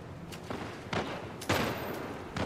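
Three or four sharp gunshots ring out at intervals in The Last of Us video game, moderately loud and with no one talking.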